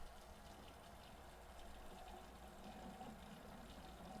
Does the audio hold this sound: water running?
yes